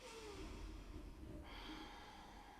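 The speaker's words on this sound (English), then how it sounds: "So you should hear the breath almost moving like a gentle wave" A slow, deep breath taken during chair yoga, one soft drawn-out inhale flowing into an exhale, faint and close in a quiet room.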